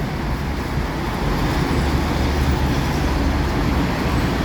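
Steady, loud road traffic rumbles at the Bang Yai junction by the M8 expressway, a continuous broadband roar of passing cars and buses with no distinct pauses.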